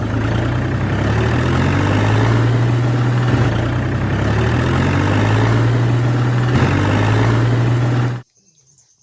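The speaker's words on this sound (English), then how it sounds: "Wow, this is a John Deere tractor." John Deere tractor engine idling in a cartoon, a loud steady low rumble with repeating rising tones, running alone for about eight seconds before cutting off abruptly into silence.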